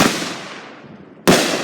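Fourth of July fireworks blasting close by: a loud crackling burst that fades away, then a second sharp bang about a second later, with no talk in between.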